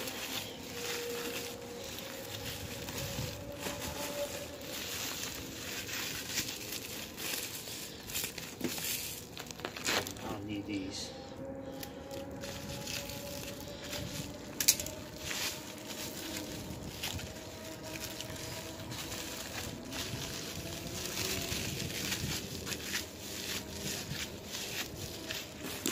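Tape is pulled and crinkled around homemade weights in a steady, close run of rustling and tearing that continues for the whole stretch, with occasional louder rips and no talking.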